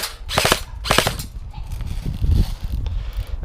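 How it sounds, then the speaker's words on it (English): A G&G CM18 MOD1 airsoft rifle fires a fully automatic burst outdoors, a rapid close rattle of shots followed by mechanical clatter and movement sounds. "one more burst on fully automatic"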